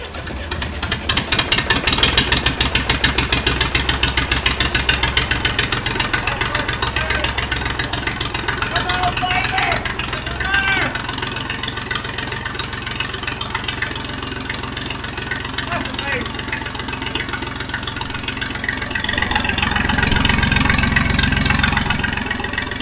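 A Massey Ferguson 20 tractor engine idles steadily outdoors in cold, rainy weather, a close, continuous rhythmic chugging that holds throughout and swells slightly louder near the end.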